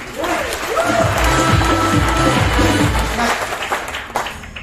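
Audience applause swells at an indoor gathering, a dense wash of clapping that fills the whole moment, with music or a voice faintly underneath.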